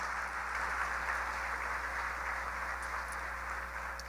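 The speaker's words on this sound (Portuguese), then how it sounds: "Aplauda mais alto o Senhor Jesus pela vida de todos eles." Steady applause from a church congregation at a conference, dense continuous clapping filling the room without pause, with a constant low hum underneath.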